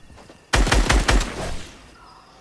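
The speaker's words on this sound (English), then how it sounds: "He's shooting." Gunfire in the video game Fortnite, a sudden loud burst of about five rapid shots followed by a fading echoing tail, no talk.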